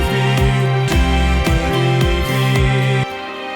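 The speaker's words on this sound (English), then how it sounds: "I'm going to throw the right side's polarity out." A music mix played in mono with the right channel's polarity inverted, giving a full, steady groove of repeating bass and drum hits, loud and continuous, that thins out and drops at the end.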